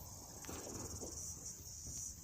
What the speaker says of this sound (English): You guys can probably hear the cicadas and hear the birds in the background.